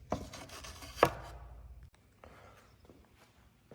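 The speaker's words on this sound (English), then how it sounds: "so I'll just pound these down into place" Two sharp knocks as threaded inserts are pounded into place in a custom center console for a 1966 Ford Bronco ring out close by, followed by quieter scuffing and light handling sounds.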